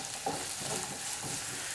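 Spring onion stems sautéed in a pan for restaurant-style garlic chicken give a steady, close sizzle with soft stirring scrapes throughout, and no one speaks.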